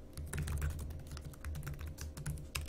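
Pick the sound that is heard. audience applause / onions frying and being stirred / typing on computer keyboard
typing on computer keyboard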